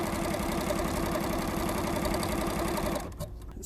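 A felting embellishing machine drives barbed needles rapidly through satin ribbon, giving a close, loud, fast mechanical chatter that runs steadily before stopping abruptly near the end.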